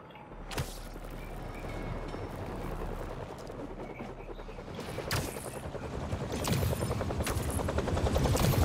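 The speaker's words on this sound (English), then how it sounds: "A helicopter's blades." Helicopter blades thump in the video game Spider-Man 2, a continuous rapid chopping that grows louder and closer over the clip, with a few sharp impacts mixed in.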